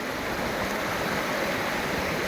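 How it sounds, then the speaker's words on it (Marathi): Water rushes in a steady, even wash along a trekking trail, a continuous moderate-level flow with no voices and no breaks. "इथे पाणी आहे मस्त"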